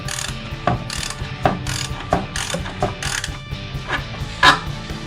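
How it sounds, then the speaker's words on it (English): Socket ratchet clicking while torquing the oil drain plug back down on a 2012 Dodge Avenger, a run of close, loud ratchet-pawl clicks in bursts of about one stroke per second with mechanical clatter between. "we're going to take our same socket and torque it back down"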